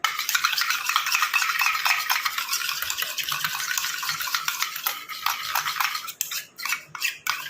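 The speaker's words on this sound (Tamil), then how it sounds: "நல்லா அந்த மாதிரி மிக்ஸ் பண்ணால் தான் நமக்கு நல்ல ஒரு திக்காக க்ரீமியாக வரும்" Homemade face cream is stirred into a thick gel in a bowl, a quick run of wet scraping and clinking strokes, close and steady, thinning into a few sharper taps at the end.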